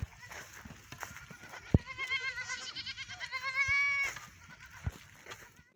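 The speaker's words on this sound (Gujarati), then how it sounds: "આ બકરામાં કર્યા છૂટા." Goats freed on a farm let out a run of wavering, drawn-out bleats in the middle of the stretch, fairly close, over soft background rustling and faint voices.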